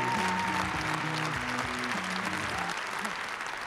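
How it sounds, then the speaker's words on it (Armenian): A hall audience claps warmly to welcome guest musicians at a national music awards ceremony, a broad steady ovation that slowly tapers, mixed with a faint sustained musical tone underneath. "Ջերմ և հյուրընկալ ծափահարություններով ողջունենք մեր հյուրերին"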